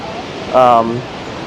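Kaieteur Falls in Guyana, a single-tier waterfall, sends up a steady broadband roar, with a brief voice rising over it for a moment.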